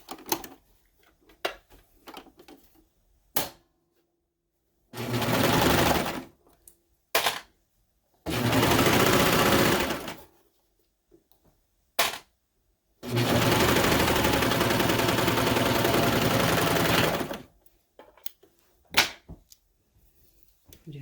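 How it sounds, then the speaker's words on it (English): A serger runs slippery skirt fabric through in loud, rapid whirring bursts of one to four seconds each, separated by silences and small handling clicks. "Run this through your serger or zigzag."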